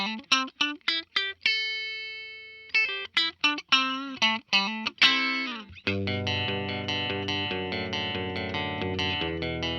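Les Paul Professional electric guitar played with its pickups out of phase, giving a thin, nasal tone: quick plucked notes and a ringing chord, then a denser strummed passage sustaining to the end, with no talking.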